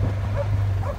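Dogs working cattle that are not dog broken, giving two short yips over a steady low engine hum from a nearby vehicle.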